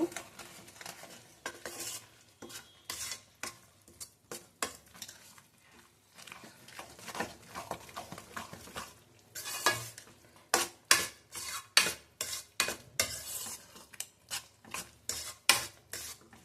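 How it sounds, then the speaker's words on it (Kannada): Spoon stirring jaggery powder into huli soppu gojju in a pan: repeated scraping strokes, faint at first and then louder and rhythmic, with a soft sizzle underneath and no talk. "ಚೆನ್ನಾಗಿ ಮಿಕ್ಸ್ ಮಾಡಬೇಕು."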